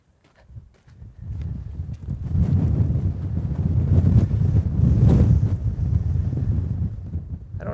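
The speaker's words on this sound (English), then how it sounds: "it is extremely windy today." Strong desert wind buffets the microphone in heavy low rumbling gusts, building after a brief quiet start and roaring continuously, peaking midway before easing slightly.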